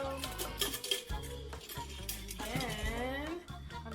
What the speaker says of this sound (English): And I'm just gonna mix that all up.